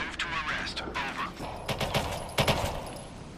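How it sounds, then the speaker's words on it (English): Gunfire erupts during a police patrol game, a few sharp shots in quick clusters amid radio-style talk and background noise, closer bursts near the middle and end. "Shots fired."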